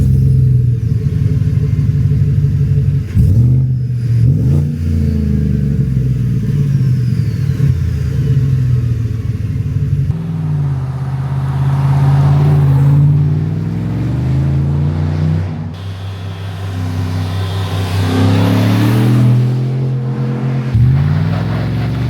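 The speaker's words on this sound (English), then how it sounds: "Now that you've gotten to see the 2500 HD in action with the MBRP Armor Pro exhaust" Silverado 2500 HD ZR2 with a 6.6 gas V8 and MBRP Armor Pro exhaust making drive-bys and takeoffs, engine notes climbing and falling through gear changes, loud and close, some passes fading in and out.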